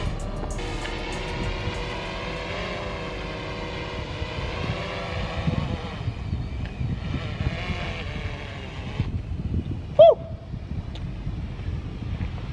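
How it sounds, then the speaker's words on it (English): A small drone hovers overhead with a steady, high-pitched whine that holds on and then fades, over outdoor wind noise beside clear water on a winter fishing outing. "Drone is right up there."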